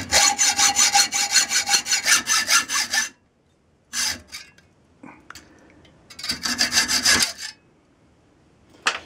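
A hand saw cuts out a metal blade blank for a chairmaker's travisher in rapid, rhythmic back-and-forth rasping strokes, loud and close, in three bursts separated by pauses with a few faint clicks.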